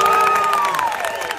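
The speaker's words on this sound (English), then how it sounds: "I think we should give a round of applause for James." A live audience applauds and cheers for James, with steady clapping and loud whoops and shouts rising above it, close and continuous.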